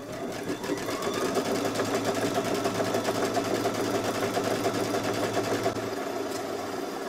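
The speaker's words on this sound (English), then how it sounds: "This is the placement stitch for the batting." An embroidery machine runs a placement stitch for batting on a Halloween spider-web placemat block, a loud steady rapid needle whir that drops away near the end.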